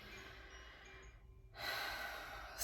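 One sharp, breathy gasp taken close to the microphone during a quiet spiritual talk, standing out briefly against faint background noise, with no speech.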